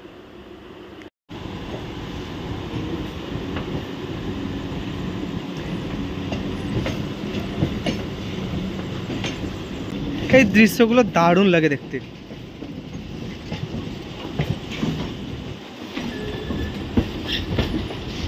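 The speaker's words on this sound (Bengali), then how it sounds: "দুটো ট্রেনই কি সুন্দর কার্ভড হয়ে মানে আসছে আর একটা যাচ্ছে" Two local trains passing each other on a curved track at night, a close continuous rumble with rhythmic clatter and a brief burst of squealing wheels, while a person talks over it.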